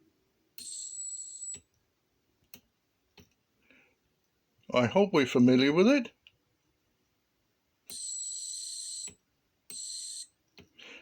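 Buzzer driven by a 555 timer circuit sounds in steady high-pitched tones: a long buzz near the start, then two more bursts later, with someone speaking between them and a few faint clicks.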